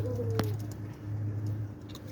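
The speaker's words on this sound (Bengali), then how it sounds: "এই যেটা একটা বান্দা কবুতর আমার মাদি কবুতর এটা রেস্টে রাখছি" Domestic pigeons resting in a home loft give low, soft, continuous cooing, fairly close, with a brief sharp tap partway through.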